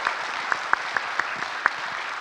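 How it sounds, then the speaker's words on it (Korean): A church congregation clapping together, a dense, even wash of hand claps with a few sharper individual claps standing out, sustained and moderately loud. "박수 한번 크게 쳐주세요"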